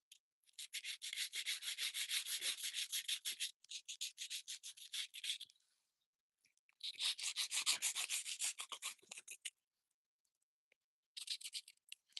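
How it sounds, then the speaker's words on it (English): Sandpaper is rubbed by hand for spot sanding, giving quick rhythmic scratchy strokes in bursts of a few seconds separated by silent gaps, crisp and close with no voices. "The sandpaper do its work."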